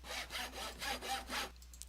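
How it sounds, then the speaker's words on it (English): Rhythmic sawing from the Minecraft Tinkers Construct mod, about six quick back-and-forth wooden strokes in a steady beat, fairly faint and alone before a brief silence. "And some sawing noises"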